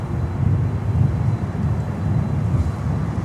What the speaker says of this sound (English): And we continue with Nonstop freighter action here from runway 9